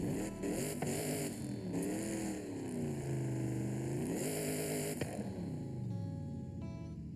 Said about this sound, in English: I'll listen to the exhaust real quick.